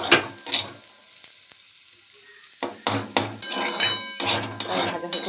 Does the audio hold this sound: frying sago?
yes